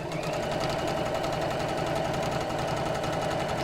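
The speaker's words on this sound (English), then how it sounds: "and we'll sew straight down" Sewing machine running steadily as it stitches a straight seam down chenille fabric, a continuous close rapid whirring and ticking hum with no pauses.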